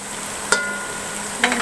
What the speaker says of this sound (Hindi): बेहतरीन इसे भी सौते कर लेते हैं।